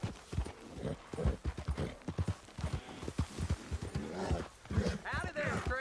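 Horse hooves and a whinny in the Western video game Red Dead Redemption 2, with steady clip-clop steps and a brief neigh near the end, heard under continuous close male speech throughout.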